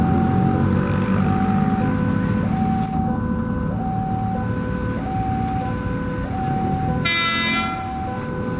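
KRL CR203 commuter train, the JR 203 unit nicknamed Si Obag, departing Rengas Bitung station past a level crossing: steady loud rumble under repeating crossing-bell tones, with a bright hiss of brakes or air near the end.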